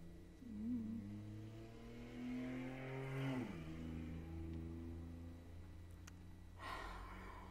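At night, motorcycle engines drone and rise in pitch as they pass at a distance, one falling away mid-clip, with faint background noise and a brief rustle later.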